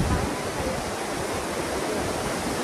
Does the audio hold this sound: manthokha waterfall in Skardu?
yes